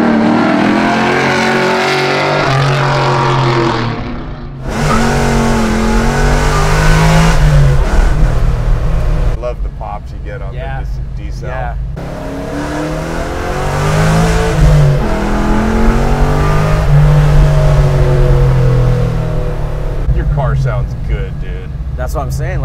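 LS3-powered Chevelle restomod engine revving hard through quick gear changes, loud and close, rising and dropping in pitch across repeated pulls, with people talking over it.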